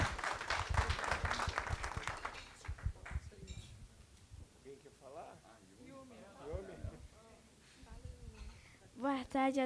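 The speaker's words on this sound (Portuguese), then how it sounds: "Uma salva de palmas para ela." Applause from a school meeting audience honoring a hardworking student, dense clapping loud at first and fading after about three seconds, followed by someone speaking.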